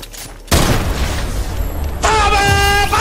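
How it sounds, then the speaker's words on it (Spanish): Shotgun fire in a video game, a loud blast at the half-second mark followed by sustained booming and crackling, with a bright chiming game sound joining near the end. "ha sido la escopeta, la de los 69 tiros"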